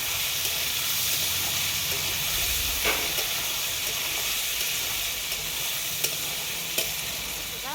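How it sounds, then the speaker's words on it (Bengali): Chicken curry sizzles steadily in an oiled pan after the lid comes off, with a spoon stirring it and giving occasional scraping clicks over a constant frying hiss, close and with no talking. "এবার আমি ঢাকা খুলে নাড়িয়ে নেব"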